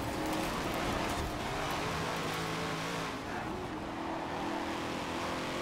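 A Dodge with a V8 engine in the Forza Horizon 4 racing game roars steadily and loudly for the whole stretch, a dense, continuous engine drone with no talk over it.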